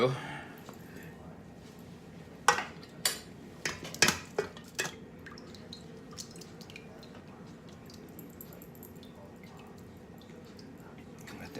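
Homemade buttermilk drips through a strainer in a kitchen, a handful of sharp drips and clinks clustered early, then a quieter steady background with faint trickling and light handling noise.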